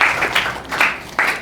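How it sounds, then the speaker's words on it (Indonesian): Short burst of classroom applause for a student, a few loud, close claps rising and falling in quick waves before a final clap, no talking. "Tepuk tangan untuk Mas Wildan"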